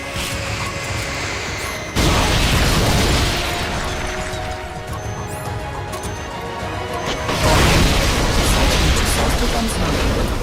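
Rocket launcher firing in Metal Gear Solid Peace Walker, with two loud whooshing blasts a few seconds apart over dense, continuous game noise.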